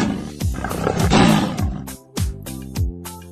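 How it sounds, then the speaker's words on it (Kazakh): A lion roars loudly and close, in deep rumbling bursts that swell and fade over a few seconds, with no speech. "Арыстан,"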